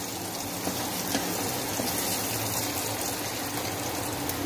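Garlic and chillies frying in hot oil in a pan, a steady continuous sizzle throughout with no talking.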